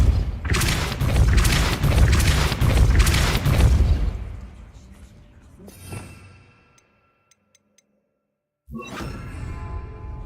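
Depulso spell cast in the video game Hogwarts Legacy: a loud rushing boom that fades over several seconds into quiet, with small clicks, then a new burst of game sound returns near the end.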